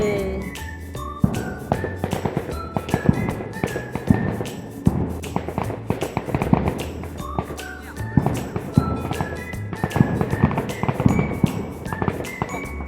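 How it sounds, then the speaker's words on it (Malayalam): Firecrackers set off at a distant church festival crackle as repeated sharp pops and thuds scattered across the whole stretch, with voices talking nearby over them. "അതിൻ്റെ പടക്കാണ് കേൾക്കണേ കേട്ടോ."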